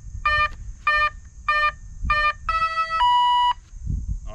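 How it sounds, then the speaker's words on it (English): Electronic speed controller on a Flex Innovations RV-8 RC plane sounding its startup beeps: four short identical tonal chirps in a steady rhythm, then two longer stepped arming tones, loud and close over low background rumble. "Two beeps and then the arming tone."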